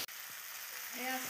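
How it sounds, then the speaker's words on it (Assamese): A vegetable curry of plantain, potato and jackfruit seeds frying in a pan, a soft continuous sizzle with a brief tonal whine near the end. "এয়া মই ধুনীয়াকৈ ভাজি আছোঁ"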